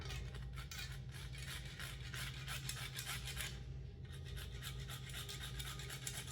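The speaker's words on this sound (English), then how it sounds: "I'm going to be using our microplane to grate the nutmeg." Whole nutmeg grated on a microplane grater, a steady dry rasping scrape that runs continuously and close up, with no talking over it.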